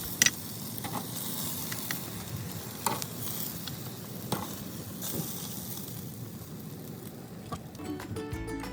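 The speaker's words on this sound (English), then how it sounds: "Now that these guys are all ready, I'm gonna get them off the grill and get them inside." Shoyu kalbi pork ribs sizzle steadily on an outdoor grill, with a continuous crackling hiss and occasional sharp pops and clinks, and no talk.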